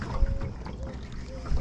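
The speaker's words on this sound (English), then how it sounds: "the waves thumping on the bottom of this metal flat boat the whole time" Low, muffled thumps of waves hitting the hull of a metal flat boat come through amid wind noise and engine-like rumble, irregular and close.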